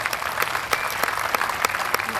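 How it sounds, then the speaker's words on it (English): Audience applause at a chamber of commerce small business awards ceremony honoring a past award recipient, a steady wash of many hands clapping with a few sharper individual claps standing out, filling the room without pause. "give him a round of applause"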